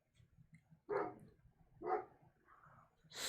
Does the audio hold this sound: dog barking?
yes